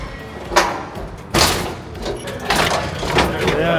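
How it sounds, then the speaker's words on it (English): Firefighting tools bang and pry at a door during a forcible entry drill at a fire department, giving several sharp thuds and scraping knocks with people talking nearby. "They'll actually get to force a door with our tools."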